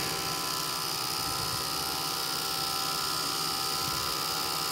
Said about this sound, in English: and reverse them, motor still runs